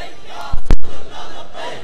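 A large crowd of followers bursts into a loud shouted Labbaik slogan, one short forceful chant that rises sharply and then trails into a rumbling murmur.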